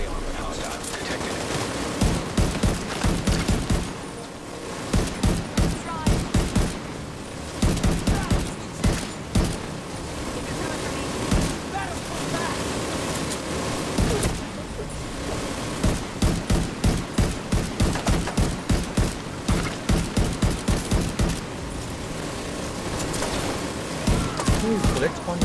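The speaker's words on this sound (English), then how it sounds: "You just keep shooting at them till they die." Rapid bursts of automatic gunfire from shooting heavily armored enemies in The Division 2, loud and near, arriving in repeated clusters across the whole stretch with brief pauses between volleys, over a steady game background.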